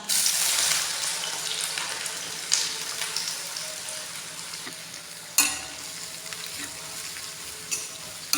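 Onion frying in oil for a bitter gourd curry, a bright, loud sizzle that eases gradually, broken by a few sharp stirring scrapes and a clack partway through, with no talk.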